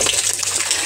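Water running for laundry pours steadily and close, a dense hissing gush with no breaks.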